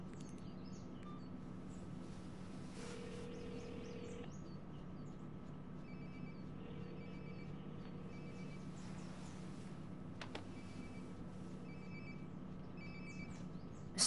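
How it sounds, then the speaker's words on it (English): A mobile phone ringing in the video game Life Is Strange: Before the Storm, repeated short electronic ring bursts in a regular pattern over a low steady ambient hum, fairly faint. "Sounds like my phone is definitely nearby."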